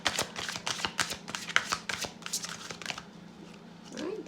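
Tarot cards are shuffled by hand in a quick series of crisp riffling snaps and soft slides, close and fairly quiet, which trail off toward the end.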